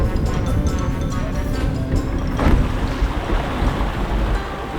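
A craft crosses small sea waves on a low swell of about 20 cm, giving a steady rushing roar of water and wind noise with a brief louder splash midway. No voices are heard.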